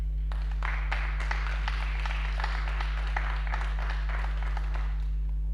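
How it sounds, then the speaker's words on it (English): A conference audience applauds the director at an event on Africa, with a full burst of many hands clapping steadily for about five seconds and then fading away at the end, over a constant low electrical hum. "another round of applause for the director"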